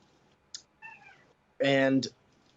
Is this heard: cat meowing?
yes